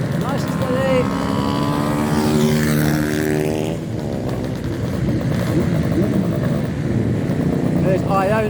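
A Honda CBR125 streetstock racing motorcycle takes a right-hand corner on a circuit, engine whining loudly and steadily with pitch sweeping down and up as it shifts, other bikes droning alongside throughout.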